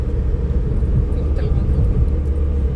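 Steady low engine rumble and road noise from a car cruising above 70 during a driving lesson in Trichy, continuous and close, with an instructor talking over it.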